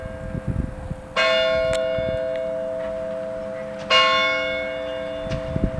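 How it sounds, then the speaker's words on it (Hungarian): A church bell tolls at an old world-war cemetery. There are two clear, ringing strikes about three seconds apart, each decaying slowly with a sustained metallic hum, over faint outdoor background noise. "Elveszem videóra a harangot."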